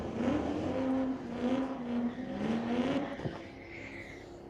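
A Corvette accelerates hard in a street-legal drag race at Mission Raceway Park, its engine note climbing through gears with a loud, rising whine that fades as the car pulls away.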